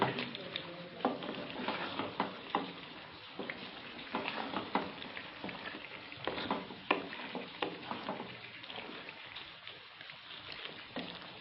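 White chicken korma being stirred and mixed in a pot, with repeated scraping and sloshing strokes in an irregular rhythm over a faint sizzle, close and fairly quiet.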